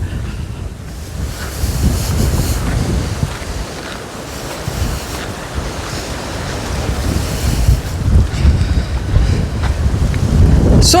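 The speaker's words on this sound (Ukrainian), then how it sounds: "Вітер той зі вчорашнього дня якийсь то скажений." Strong, steady wind roars and buffets the microphone on an Arcadia beach in Odesa, with surf washing in underneath; gusts swell louder toward the end. No voices.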